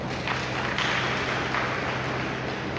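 An audience claps loudly for a child at a church gathering, a dense even wash of applause from a crowded room, fairly distant and continuous.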